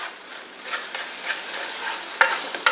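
Shrimp for pasta cooks in a pan, giving a soft steady sizzle with a few scraping stirs and light clinks near the end, fairly close and with no talking.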